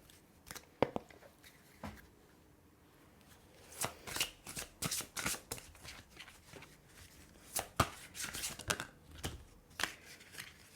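Tarot cards being shuffled in bursts of quick riffling slaps and rustles, close and moderately loud, with short pauses between the runs.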